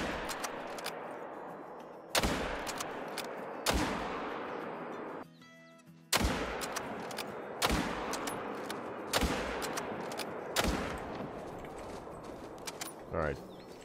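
Rifle shots fired at whitetail deer while hunting in Mississippi in the video game Call of the Wild: several sharp, loud cracks spaced a second or more apart, each with a short decaying tail over ambient outdoor background.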